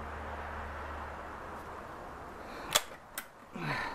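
A gas-spring MP-512 air rifle fires a single sharp, close crack, followed shortly by a second fainter snap and a brief low rustle, over a quiet room hum.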